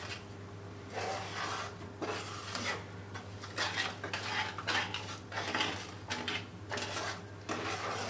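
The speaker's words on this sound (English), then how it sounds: "Mix all together until they form a smooth paste." A milk mixture for cupcakes is stirred into a smooth paste in a bowl, with quiet rhythmic scraping and clinking strokes of a utensil over a low background hum.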